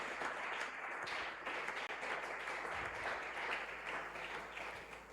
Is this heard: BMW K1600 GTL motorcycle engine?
no